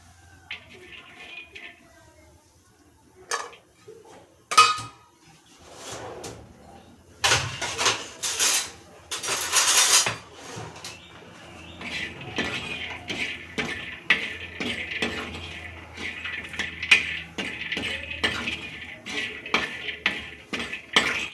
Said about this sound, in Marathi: त्याच्यामध्ये शेंगदाणे टाकून घ्यायचे आणि खोबरं पण टाकून घ्यायचं. याला थोडंसं भाजून घ्यायचं.